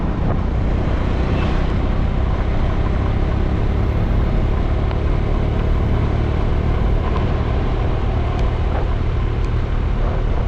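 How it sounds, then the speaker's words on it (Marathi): Heavy road traffic on a rainy day in a Konkan village during the Ganpati festival, a loud constant rumble of engines and tyres from nearby vehicles, with no talking. "आता घरी जाता जाता मला ट्रॅफिक भेटली आहे"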